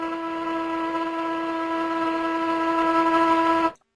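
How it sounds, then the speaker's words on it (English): A ship's whistle sound signal gives a single long, steady blast holding a constant pitch for nearly four seconds, then cuts off abruptly into silence. "A whistle."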